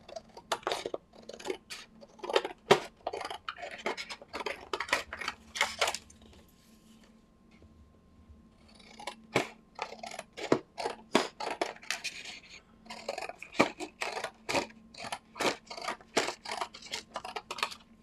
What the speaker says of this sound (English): I'm just going to cut it out right to the border.